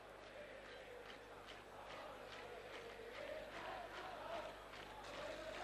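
A football crowd at a 1970s European Cup Winners' Cup final roars and chants in a broad distant wash of noise, with rhythmic swells rising through the stadium.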